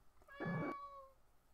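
House cat held up to a microphone gives a single short, close meow against a quiet background.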